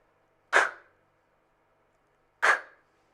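Two beatboxed outward K snare sounds, a voice imitating a snare drum with a sharp exhaled K click, spaced about two seconds apart, each short and punchy with a brief breathy tail, close and isolated against silence.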